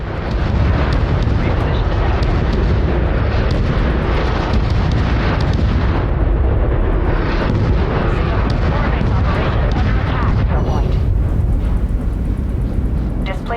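Dense, continuous bombardment of explosions and heavy booms in the RTS game Crossfire Legion, loud and rumbling throughout with overlapping blasts and no clear pauses.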